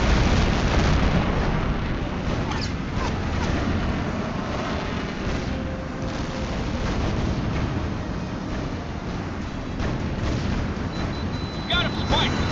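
Explosions in the Tom Clancy's H.A.W.X. flight combat game, Operation Glass Hammer mission, as enemy tanks are destroyed: a dense, continuous roar of booms and rumbling blasts with sharper cracks scattered through it, loud and sustained throughout.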